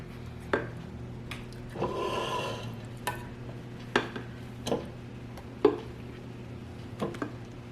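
Chocolate cake batter scraped from a mixing bowl into a bundt pan: repeated short scraping knocks and taps with a longer rubbing scrape in the middle, close and fairly clear, over a steady low hum.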